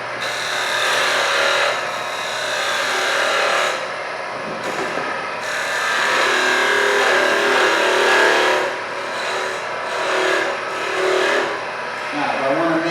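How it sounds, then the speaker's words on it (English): A skew chisel shaves wood on a spinning lathe, giving a steady whirring, scraping cut that rises and falls with each pass over the workpiece, loud and close with brief pauses and no talk over it. "I'm just shaving it away."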